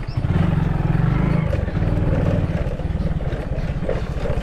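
Motorcycle ridden off-road through village fields and behind houses, its engine chugging in a close, loud, rapid pulsing rhythm that holds steady for the whole stretch.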